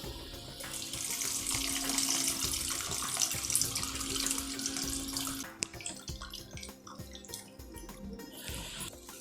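Tamarind water pours and splashes steadily through a strainer into a pot for several seconds, then stops, leaving faint clinks and drips.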